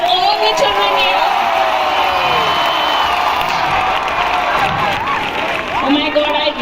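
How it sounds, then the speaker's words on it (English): Audience at a school annual finale event applauds and cheers for a children's performance, a dense continuous wash of clapping and shouts with a voice talking over it throughout. "A huge round of applause for all the children here."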